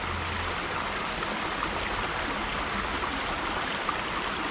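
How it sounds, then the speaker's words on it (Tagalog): A forest river flows in a steady, continuous wash of water, with faint insect and bird calls barely standing out above it and no talk. "Yung maririnig nyo lang, yung agos ng ilog at puni ng mga insekto, mga ibon."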